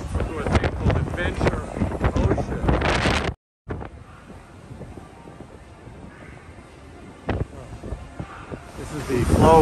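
Gale-force wind buffets a phone microphone on a cruise ship deck near a water slide, roaring and gusting loudly throughout with a brief dropout, while someone talks over it.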